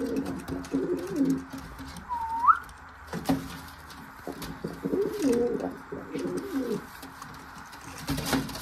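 Valencian pouter pigeons coo in low, rolling bursts with a few brief whistly calls, moderately close against faint background noise and no speech.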